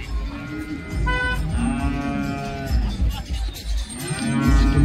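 Buffalo on a farm mooing in long, harmonic, drawn-out calls that repeat back to back, close and fairly loud over low background rumble.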